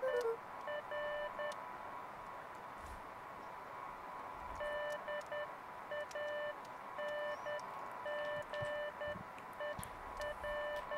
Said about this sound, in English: so it is beeps